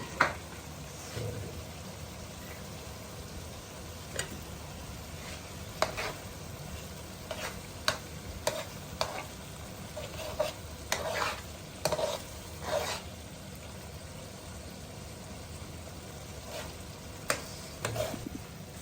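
Seekh and shami kebabs fry in a karahi with a low steady sizzle, broken by scattered clinks and scrapes of a spoon stirring against the metal pan.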